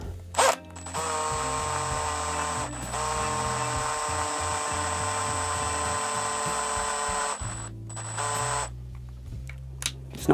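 A power drill runs steadily for several seconds, twisting a bundle of electrical wires clamped in its mandrel, with a high whine and buzzing motor tone. It briefly stops and restarts, and a short closing burst is heard near the end.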